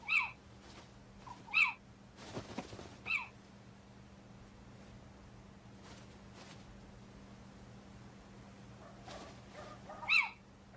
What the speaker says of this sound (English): One little owl is distracted by bright lights.